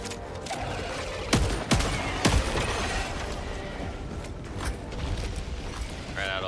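Gunfire in a Warhammer 40K video game, a few loud sharp shots and impacts over a constant noisy battle din with creaking and mechanical clatter, no voices.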